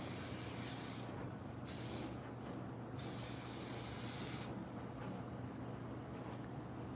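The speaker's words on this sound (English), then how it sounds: "I'm also gonna use this humidity blocker protective finishing spray on my hair" Humidity blocker protective finishing spray is sprayed onto hair in three close, loud hissing bursts, the first two short and the last one longer, with no talking.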